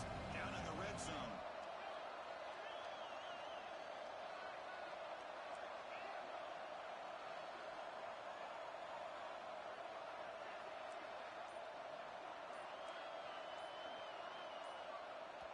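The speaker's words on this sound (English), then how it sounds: "And the crowd coming to life here, trying to help this defense down in the red zone." A football stadium crowd roars steadily during a college game between Tennessee and Ole Miss, a broad sustained cheer filling the background beneath a commentator's talk.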